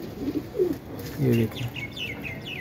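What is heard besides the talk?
pigeon cooing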